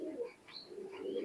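Imported Omani Teddy pigeons coo softly in a pair of low, throaty murmurs close by, faint and without talk.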